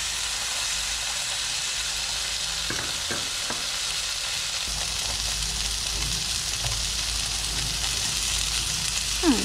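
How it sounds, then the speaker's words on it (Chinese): Skin side of a boneless New Orleans-style marinated chicken thigh steak fries in a pan, rendering fat with a dense, constant loud sizzle and a few faint utensil taps, no talking. "所以我们就是皮的部分煎下去"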